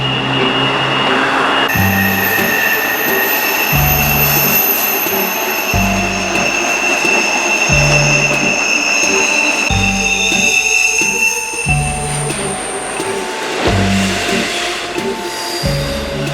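Norfolk Southern freight train hauled by three GE locomotives passing close by, with loud sustained wheel squeal over rhythmic clacking of car wheels on rail joints throughout.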